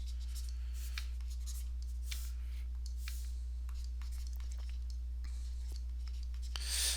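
Chalk or marker strokes on a board during a university math lecture on inverse functions, a steady run of short scratchy strokes over a low steady hum, with no talking.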